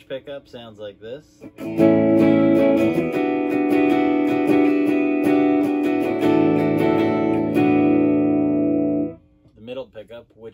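A Fender Troy Van Leeuwen Jazzmaster electric guitar on its bridge pickup rings out in loud strummed chords that sustain for several seconds, with someone talking briefly before and after.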